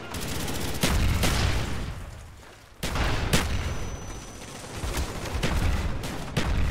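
Gunfire in Black Ops, several sharp loud shots spaced unevenly over a steady background of game noise, with no talk.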